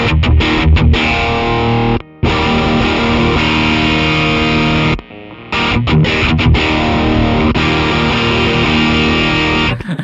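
Heavily distorted Jazzmaster electric guitar with single-coil pickups strumming chords loudly, with two short breaks of silence between bursts of crunchy, sustained playing.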